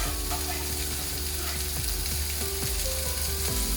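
Onions and garlic fry in olive oil for a beef pie filling, giving a loud, steady, dense sizzle throughout with faint scraping stirs over it.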